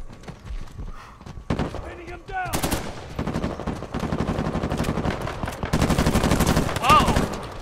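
Rapid gunfire from the video game Uncharted 4, dense bursts of shots rattling continuously for several seconds, loud and close, while players talk and exclaim over it.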